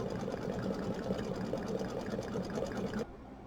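An embroidery machine sews satin stitching on a fabric pennant, giving a steady, dense mechanical whir with fast repetitive needle strokes that runs continuously at moderate level and then cuts off near the end.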